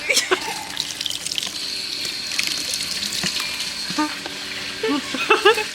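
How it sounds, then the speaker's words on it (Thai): Tap water runs steadily into a basin while hair is rinsed after a fifteen-minute treatment, a close, continuous splashing hiss with occasional gurgles and knocks, no voices over it. "เสร็จแล้วก็เปิดน้ำเลย"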